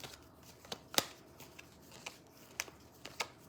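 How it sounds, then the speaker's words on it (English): A deck of tarot cards is shuffled close by in quiet, irregular riffles and snaps, with one sharper slap near the one-second mark, heard alone without talk. "let's shuffle the deck"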